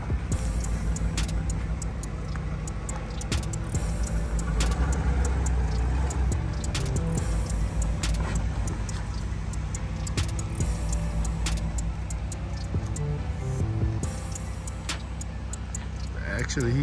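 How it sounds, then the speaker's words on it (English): A car drives up a ramp onto a trailer, its engine rumbling steadily with clicks and clanks throughout, while people talk over it. "This is our first car going up there,"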